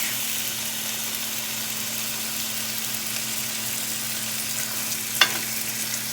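Beef hanging tender sizzling in a hot pan, a steady loud frying hiss throughout with a single sharp clatter near the end as the meat is flipped.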